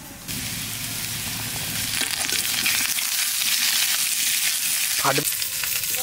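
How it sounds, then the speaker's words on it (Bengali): Potato pieces fry in hot oil in a pan, a steady, dense sizzle that holds close and even throughout, with a brief clink of a utensil near the end. "আলুটা একটু ভাজে নিলাম, এখানে কাঁচা লঙ্কা দিয়ে দেবো।"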